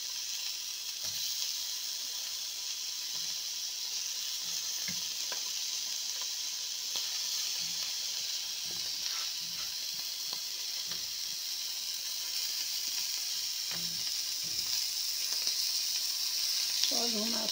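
Merguez sausages sizzle in a dry pan with no oil, a steady soft hiss and crackle with scattered small pops and faint clinks throughout, no talking.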